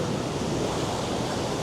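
Ocean waves break continuously at Ipanema Beach in Rio de Janeiro near Arpoador, a dense, steady wash of surf roar with no pauses or distinct individual crashes.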